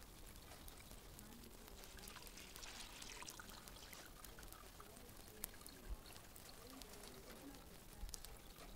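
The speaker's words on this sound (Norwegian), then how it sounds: "Åja, blomsten må ha vann!" Water poured steadily onto a flower plant, a faint, soft continuous trickle and splash with a few small drips standing out near the end.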